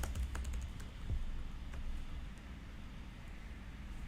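Code is typed on a computer keyboard in quiet, quick key taps that fall mostly in the first moments, then fade under a soft steady background hiss.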